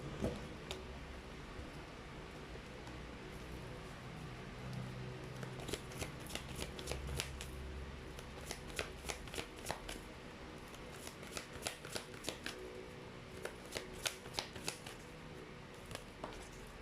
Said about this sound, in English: Let's try to pull up more cards.